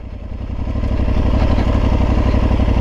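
A 2022 Aprilia Tuareg 660 motorcycle idles close by, its engine a steady, loud, low throbbing pulse with even rapid firing beats and no change in revs.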